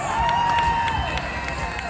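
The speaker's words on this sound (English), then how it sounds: "That's some great reaction out of the crowd." A county fair crowd cheers and shouts after a BMX flatland trick, a loud, brief burst of collective noise with a voice over the crowd.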